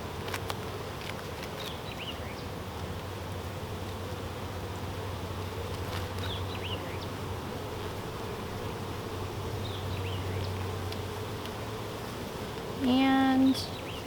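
Bees droning around an open beehive during an inspection of frames with brood and nectar, a steady low hum with occasional individual buzzes passing close, plus a brief louder buzz near the end.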